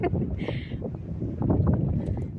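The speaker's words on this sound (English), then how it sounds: "Real windy today." Strong gusts buffet the microphone at the Kenai boat launch dock in Alaska, a low rumbling roar that rises and falls throughout, with a person briefly talking underneath.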